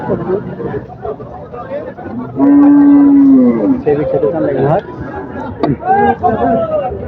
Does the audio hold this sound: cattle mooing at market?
yes